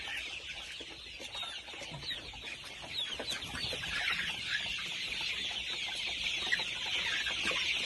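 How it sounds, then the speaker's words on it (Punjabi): Desi chickens cluck steadily on a free-range poultry farm, a dense chorus of short clucks and calls from several birds at moderate distance, with no talking. "ਇਹ ਵੀ ਮੁਰਗੀ ਹੈਗੀ ਜੇ।"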